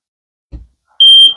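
A single bright electronic beep from a smoke detector in an RV hallway, short and piercing, preceded by a soft thump, with no voices.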